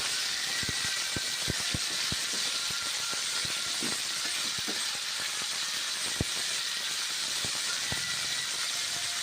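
Cabbage fries in a pan, giving a steady bright sizzle and hiss with scattered sharp pops and crackles, fairly close and continuous.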